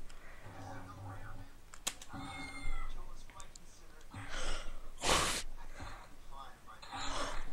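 A kitten's meows come from a game amid keyboard clicks, while a person reacts with gasps and speech throughout.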